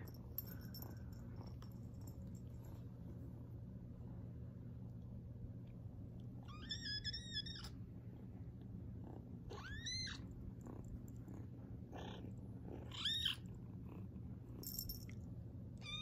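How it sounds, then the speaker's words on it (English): A low, steady purr rumbles continuously up close, with a few soft high meows breaking in now and then. "Can y'all hear her purring?"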